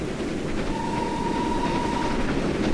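A train in Train Simulator 2016 passes in the opposite direction on the Riviera Line, giving a steady, loud rumble and wheel noise throughout, with a faint sustained whistle-like tone running through the middle.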